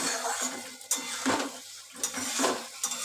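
Potato and tomato stirred and fried in spice paste in a pan for a tangra fish curry: repeated scraping strokes of a spoon against the pan over a continuous sizzle, steady and close.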